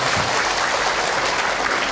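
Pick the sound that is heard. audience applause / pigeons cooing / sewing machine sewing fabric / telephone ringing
audience applause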